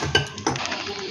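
A metal kadai is set down on a kitchen stove, giving two sharp metallic clanks a moment apart, followed by softer scraping and handling noise.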